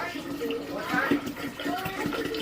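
Clean distilled water is poured into an ormus mix, a steady liquid splash and trickle close by, running under a talking voice for the whole stretch.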